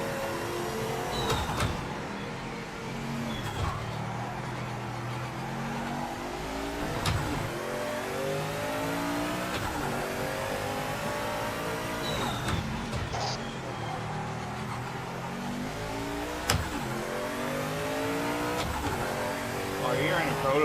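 A Sauber prototype race car in the Project Motor Racing video game revs hard through repeated gear shifts, the engine note climbing and dropping in a steady cycle while people talk over it.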